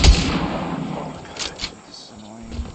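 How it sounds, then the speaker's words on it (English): Gunfire in the Fortnite video game: a burst of shots and booming reports at the start, followed by fainter distant pops and rumbles, with game sounds trailing off. "who the fuck's shooting at me?"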